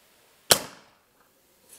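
A single sharp shot from a PCP Custom 5.5 air rifle, a crisp close crack with a short decaying tail, then near silence apart from a faint rustle at the end.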